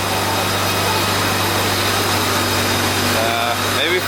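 A Honda S2000 fitted with a Kraftwerks supercharger runs on a Mustang chassis dyno, giving a steady, loud engine drone with a constant whine, then a rising pitch toward the end.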